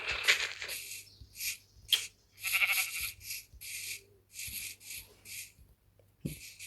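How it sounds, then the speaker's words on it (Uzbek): Sheep in a survival video game give short, repeated bleats in separate bursts with small gaps between them, fairly close, with occasional soft clicks in between. "Qo'ylar bor ekan, qo'ylar."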